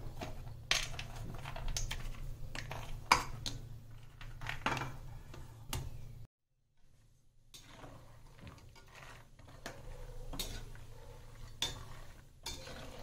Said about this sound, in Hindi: तो इस तरीके से हम ये सारा ड्राई फ्रूट सेक के तैयार कर लेते हैं